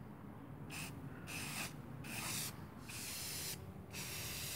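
Spray paint can sprays a light first coat across an engine bay panel in several steady bursts of hiss, each about half a second to a second with short pauses between, close and fairly loud, over a faint background hum.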